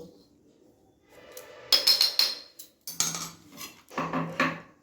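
A spoon stirs a sweet sesame mixture with powdered milk in a pan for sesame sweets, giving clinking, scraping knocks of metal on the pan in short irregular bursts, close and moderately loud, with no talk.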